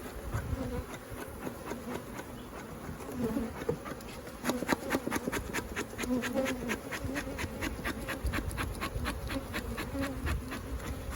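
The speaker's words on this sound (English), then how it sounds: "They've got a lot of guard bees." Honeybee guard bees from an agitated, aggressive hive swarm around an opened box, producing a dense, continuous buzzing with close passes and wingbeat whine rising and falling near the listener, steady throughout with no talking.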